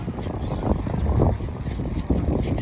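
Strong wind at an Abu Dhabi seaside viewpoint, a loud, continuous roaring buffet that gusts and rumbles against the microphone with no talk.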